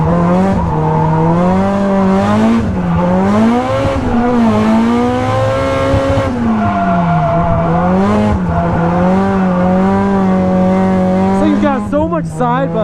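Nissan S chassis drift car driving hard, engine revs surging and falling in repeated waves with tire squeal, loud and close, with a few sharp squeals near the end.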